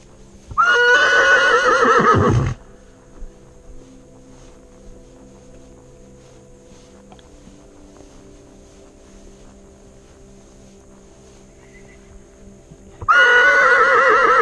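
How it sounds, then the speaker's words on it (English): A horse gives two loud, shrill whinnies outdoors, one at the start and one at the end. Between them is a long stretch of quiet background with faint ambient noise. "Do I ever hear a horse calling from over there?"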